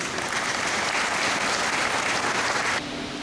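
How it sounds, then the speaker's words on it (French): An audience at a police academy graduation ceremony in Haiti claps steadily and densely for the organizers, the applause filling the space for nearly three seconds before dropping to a quieter room tone. "je vous demanderai d'applaudir ces gens"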